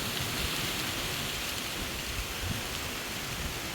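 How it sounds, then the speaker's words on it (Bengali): Steady rain with gusting wind during a Kalbaishakhi storm, a continuous broadband wash of close, fairly loud downpour and rushing air with no voices. "আজ বৃষ্টি হচ্ছে আর প্রচুর ঝড়"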